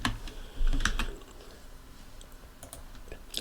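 Light keystrokes on a computer keyboard, a few soft clicks early on and then sparse taps, quiet and close against a faint room hum.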